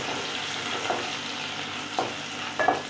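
Crushed garlic and grated ginger frying in a pan, stirred, with a steady sizzle and a few soft scraping knocks of the spoon near the end; no talking.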